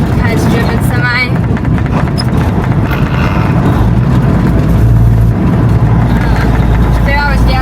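A semi truck's engine rumbles loud and low from inside the cab while driving and downshifting, and its pitch shifts partway through. A voice may be faintly audible under the engine.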